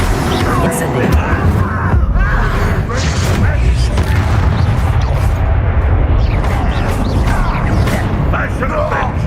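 In Hogwarts Legacy, the Incendio fire spell is cast during a loud, busy battle, with continuous booming blasts and crackling over dense game noise and voices.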